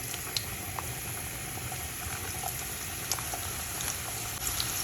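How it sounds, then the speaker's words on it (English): One onion sizzles and crackles in hot oil in a pan, a steady close hiss with small scattered pops and no talking. "So I'm just going to be putting about 1 onion in this."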